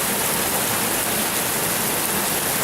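Rain from Tropical Storm Andrea pours down in a steady, dense hiss, loud and unbroken, with no voices.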